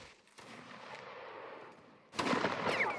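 Cannon fire at a large online battle event, distant booming rumbles followed by a louder, closer blast near the end over continuous battle ambience.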